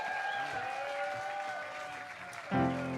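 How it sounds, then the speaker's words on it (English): Scattered audience applause at a country music showcase, fairly faint beneath lingering sustained music tones, with a louder burst near the end. "give him a round of applause"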